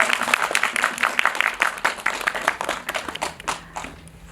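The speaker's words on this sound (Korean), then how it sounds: "큰 박수 한 번만 더 부탁드립니다" An audience at a film screening and director-cast talk applauds loudly and continuously, dense clapping close by that gradually thins out toward the end.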